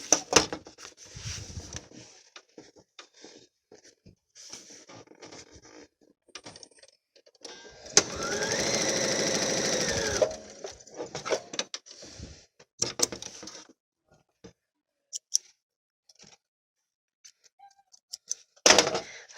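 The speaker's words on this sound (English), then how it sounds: "now I'm just going to stitch those down about 1/4 inch, 1/8 of an inch rather, from the edge" A sewing machine stitching down pleats on a fabric face mask runs in one steady burst of about two seconds, surrounded by scattered clicks, taps and fabric handling.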